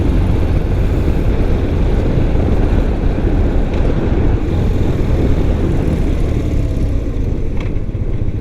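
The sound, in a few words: 1993 BMW R100GS motorcycle ridden hard over potholes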